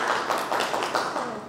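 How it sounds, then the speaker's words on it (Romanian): Small audience at a book launch gives a quick burst of hand clapping, a short, close patter of several claps in an indoor room. "Dar e de aplauze."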